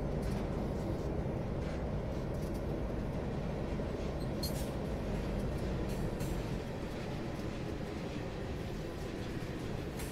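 A video game train, an SD9 locomotive on the Mount Shasta Line, rumbles steadily along the tracks in a low, continuous roar, with faint clattering over it and no voices.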